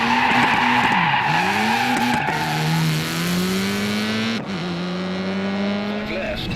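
A rally car in the racing game Assetto Corsa Rally brakes hard and slides, tires squealing loudly in long sweeping pitches over a droning engine, with a gear change partway through.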